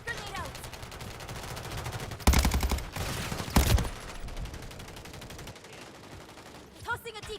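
A decoy grenade in Call of Duty mimics gunfire with rapid bursts of automatic shots, two loud volleys standing out over quieter background battle noise, with someone speaking.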